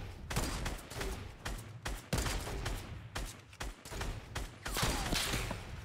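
Gunshots in Fortnite, a run of sharp separate reports spaced across several seconds, some in quick pairs, at fairly even loudness with no voices over them.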